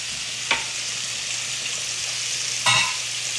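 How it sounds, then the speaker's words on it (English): Chicken cutlets fry in oil with a steady, close sizzle. Two brief utensil knocks stand out above it as pasta is stirred in a nearby pot. "I'm gonna give my pasta a quick stir."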